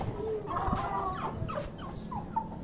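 Poultry calling nearby: a few gobbling, warbling cries rising and falling over a low background murmur, with no talking.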